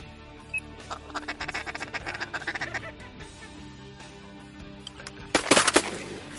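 Shotgun blasts ring out during a teal duck hunt in Mississippi, a quick cluster of loud sharp reports near the end, after a stretch of ducks quacking and calling with outdoor background noise.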